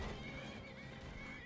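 A horse in the Skyrim video game gives a short, clear whinny lasting about a second and a half, heard alone at low volume.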